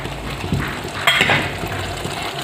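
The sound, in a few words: sliced tomatoes cooking in a pan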